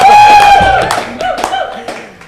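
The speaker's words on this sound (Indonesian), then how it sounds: "Kita beri tepuk tangan dong buat semangatnya untuk tim dong." Brief scattered clapping from a studio crew on an Indonesian talk show, a few hand claps mixed with light laughter and a lingering tone, fading out within a couple of seconds.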